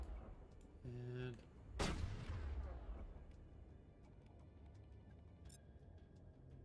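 Gunfire in the video game Mass Effect: a sharp shot cracks out and rings into a long fading tail, with faint scattered pops before and after, fairly quiet overall.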